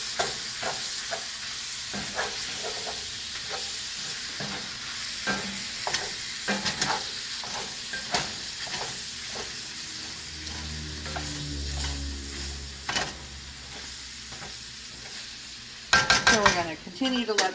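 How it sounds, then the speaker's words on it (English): Taco meat with seasoning sizzles steadily in a pan while a utensil stirs and scrapes it with irregular clicks and taps. A louder clatter of cookware comes near the end, and no one talks. "You want to make sure you slide it around the pan, pick up all that taco seasoning that you dumped on it earlier."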